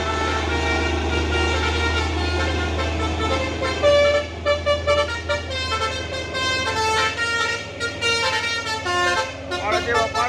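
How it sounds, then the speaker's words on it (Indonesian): A Chandra bus on the Dharma Raya route to Medan sounds its melodic telolet horn: repeated musical toots pulsing over a steady low engine rumble, with someone talking throughout. "Bus full telolet."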